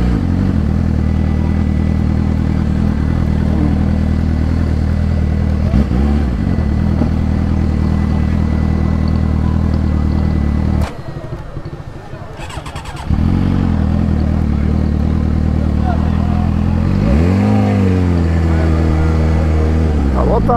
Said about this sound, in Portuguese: tem um monte de moto ali, mano